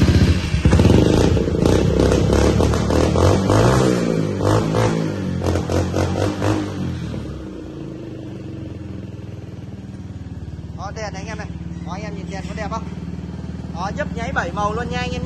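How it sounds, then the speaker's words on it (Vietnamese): A used motorcycle's engine is started and run for a test, a close rumbling roar that revs loudly at first and then settles into a steadier idle, while someone talks over it. "Bây giờ mình test máy cho anh em nghe nhá."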